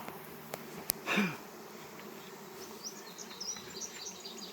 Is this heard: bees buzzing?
yes